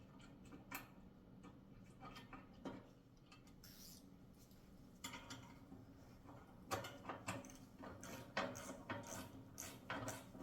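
A hand ratchet tightens a 14 mm bolt on the foot pedal of a VEVOR hydraulic lift table cart, with bursts of quick clicking strokes that pause and resume, close and fairly quiet.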